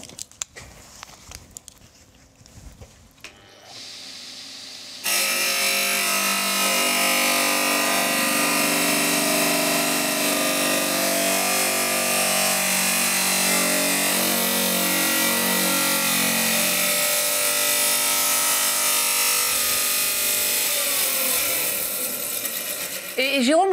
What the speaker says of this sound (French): Jérôme va maintenant réaliser une découpe sur une dalle extérieure de 2 cm.